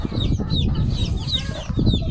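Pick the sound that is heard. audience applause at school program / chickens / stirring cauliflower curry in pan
chickens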